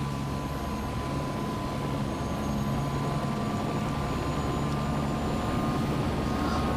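Bell 206 helicopter engine throttling up in a flight simulator, a steady loud turbine whine and rotor drone holding constant throughout with no speech.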